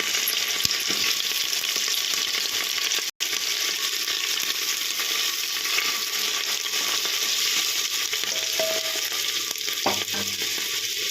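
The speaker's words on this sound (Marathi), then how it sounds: "कांदा थोडा मऊसर असा भाजून घ्यायचा" Onion frying in hot oil for veg pulao, with a steady close sizzle and occasional stirring scrapes throughout and a momentary dropout early on.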